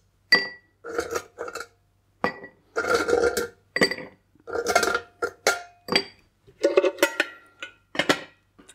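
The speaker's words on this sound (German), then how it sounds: "dann füllen wir unser Rührglas mit Eis" Ice cubes are dropped into a glass bar mixing glass for a rum cocktail, giving about a dozen sharp, close clinks and rattles in irregular bursts separated by brief silences.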